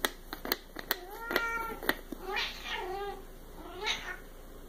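A cat meows repeatedly for a treat, several short close-up meows followed by longer drawn-out wavering cries, with a few soft clicks between them and no talking.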